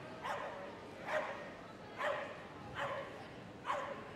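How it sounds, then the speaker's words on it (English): Poodles yap at a Crufts dog agility competition, five sharp barks spaced about a second apart, moderately close over a busy arena hum. "So Bert's the terrier poodle and Pip the poodle."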